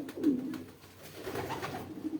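Pigeons coo softly close by in a pigeon loft, giving a couple of low, throaty rolling calls with quiet background noise.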